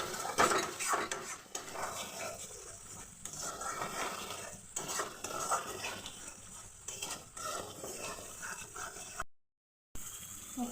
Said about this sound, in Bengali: এখন সবগুলো একসাথে অল্পক্ষণ কষিয়ে নেব।